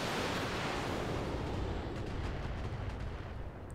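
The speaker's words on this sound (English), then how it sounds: "So let's just fire with the LRM." LRM missile salvo launching from a BattleTech mech in a video game, a dense rumbling roar of overlapping launches that fills the moment and tapers slightly at the end.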